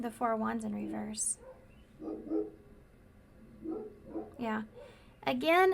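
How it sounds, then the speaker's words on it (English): Dogs at home barking and yipping in short bursts near the start and end, fairly close, mixed in with someone talking calmly in between. "sorry about my dogs, guys. They're a mess."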